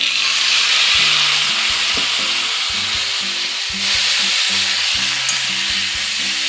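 Mixed vegetables with spices fry loudly in a pan with a little water added, a dense constant sizzle under a rhythmic run of stirring knocks and scrapes.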